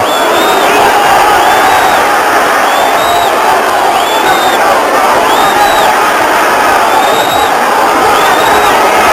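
A boxing arena crowd at the Roberto Duran versus Iran Barkley fight gives a steady, dense roar of cheering. Whoops and whistles rise above it at regular intervals throughout.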